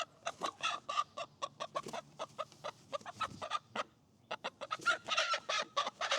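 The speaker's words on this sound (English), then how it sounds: "And this is Nightingale, Olive Egger, closest one to our house" An Olive Egger hen clucks in a backyard flock, a rapid series of close, loud, choppy clucks with a short pause before another busy burst.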